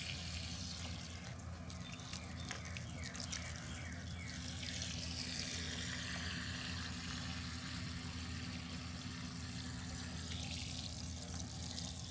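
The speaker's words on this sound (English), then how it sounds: "Just watering them thoroughly." Container plants in lined grow bags watered thoroughly in a June zone 7 garden, a steady hiss of water spraying and soaking into soil, continuous and fairly soft throughout.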